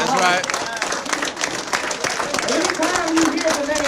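An audience at a Nation of Islam speech in Newark, New Jersey claps and applauds loudly and continuously, with voices calling out over the dense clapping.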